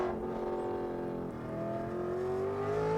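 A silver car with a rear transaxle drives past, its engine note rising steadily in a smooth, sustained whine as it accelerates, heard at moderate level throughout.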